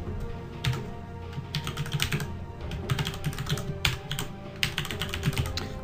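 Rapid, uneven clatter of keys on a computer keyboard, close and fairly loud, with bursts and short pauses while a wearable item for a Dota 2 workshop submission is entered.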